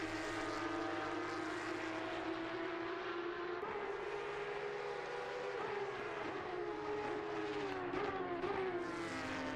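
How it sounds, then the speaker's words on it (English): A Porsche Cup race car engine in a racing video game screams steadily at high revs, with pitch sweeping up and dropping through gear changes, loud and continuous throughout. "Got a cracking engine with the gear change. That scream as it changes gear"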